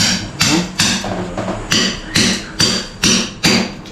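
Repeated hammer blows while breaking out a bathroom toilet bowl, about eight sharp metallic strikes at a steady rhythm, close and loud with brief ringing after each.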